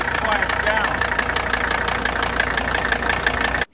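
Mercedes 300TD wagon diesel engine idling with a steady knocking clatter, a continuous close mechanical rumble with a repeating tick running throughout before it cuts off abruptly at the end.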